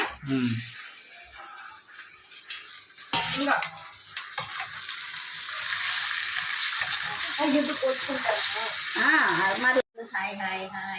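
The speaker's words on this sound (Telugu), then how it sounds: "చికెన్ వేసేస్తున్నాను" Chicken pieces go into a hot pan for biryani and set off a loud, bright sizzle that keeps frying on steadily while someone talks over it. Utensils clink and stir the pan now and then.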